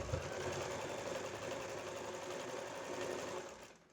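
A sewing machine stitches a child's co-ord set in a steady, continuous run close by, and the motor whirs evenly until it slows and stops near the end.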